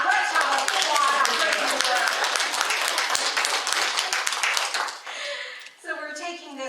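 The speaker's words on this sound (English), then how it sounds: "let's have a applause" Lively applause from a congregation in a Unity church service, dense close clapping for about five seconds before it fades and a speaking voice takes over.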